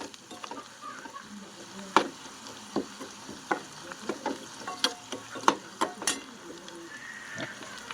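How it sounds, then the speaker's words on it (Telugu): Chicken pakoda frying in a pan with green chillies and curry leaves, giving a steady sizzle broken by sharp crackles and spits of oil, all close up with no talking. "సో, చూడండి ఇలా నీట్‌గా ఫ్రై చేసేసుకోవాలి."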